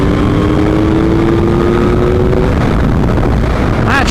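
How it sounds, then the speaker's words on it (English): A Yamaha MT-09 motorcycle accelerates hard in sixth gear to overtake on a bright day, its engine note rising steadily under loud, continuous wind roar from the rider's microphone. "I actually overtook in 6th gear there, which I don't know why I did that, but just to say that it works fine on an MT-09."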